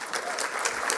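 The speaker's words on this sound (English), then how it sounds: "let's have another round of applause for all of our honorees today" Audience applause for honorees at a plenary session of a national mentoring summit, a steady wash of clapping from a large crowd filling the whole second without a break.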